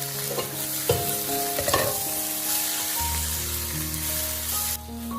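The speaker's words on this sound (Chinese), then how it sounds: "用铲子不断的翻炒，让里面的包菜叶受热均匀" Hand-torn cabbage stir-fried in a hot wok with a spatula, a loud continuous sizzle broken by several scraping stirs and clanks near the start.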